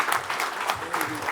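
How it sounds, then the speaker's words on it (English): Scattered applause from an audience at a software conference talk, a brief patter of individual claps at moderate distance, fairly light and uneven. "Wow, I got applause."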